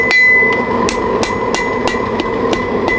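A hammer forges a taper on hot steel, striking in a steady rhythm of about six sharp metallic blows with ringing tones between them, close and loud, with no one speaking.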